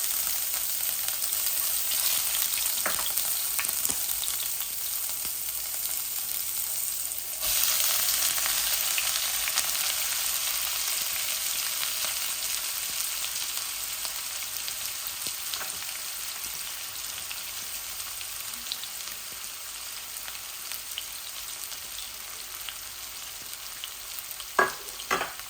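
Bay leaves and frozen garlic dropped into hot oil, producing a loud sizzle that brightens sharply partway through, then settles into a steady frying hiss with a few faint stirring clinks near the end.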